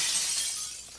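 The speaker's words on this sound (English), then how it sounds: "Yeah, break the window." Window glass shatters in the Modern Warfare III multiplayer game, a short bright crash with a hiss of breaking shards that fades over about a second, heard alone without talk.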